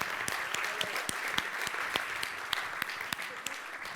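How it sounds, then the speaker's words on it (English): Steady applause from a conference audience at a blockchain event in Sydney, a dense spread of clapping with some sharper individual claps standing out, sustained throughout at moderate loudness. "give them a round of applause"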